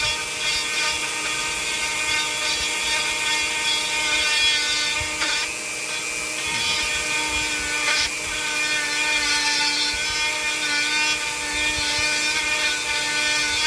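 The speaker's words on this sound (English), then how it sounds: "this Cutzel Extreme Taper Burr is rounding that a little bit" A Dremel rotary tool fitted with a Cutzel Extreme Taper Burr carves walnut, giving a steady high-pitched whine with a grinding buzz and occasional brief catches as the burr bites into the wood, continuous and close throughout.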